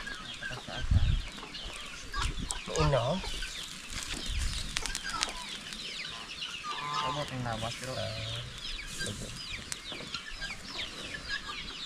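Turkey in a Filipino backyard being readied for roasting as lechon, with fowl clucking and chirping calls scattered amid chatter and outdoor noise, several voices talking over it.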